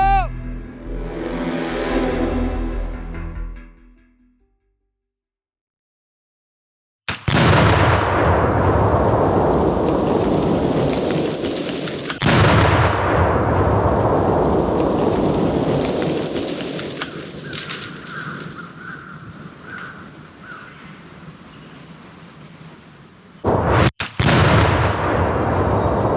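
Gunshots fired at trail cameras, with loud, sharp blasts echoing and decaying over several seconds outdoors, spaced apart, then a quick double shot near the end; a voice is heard briefly at the start.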